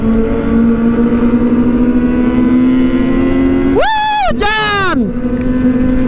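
A motorcycle revving sharply twice on a road during a rainy night ride, sudden high-pitched engine bursts rising over a steady drone of other engines and traffic nearby.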